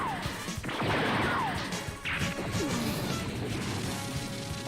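Laser sword clashes from a Gundam anime battle, crashing, swishing impacts and zaps in a busy, loud burst of sound effects.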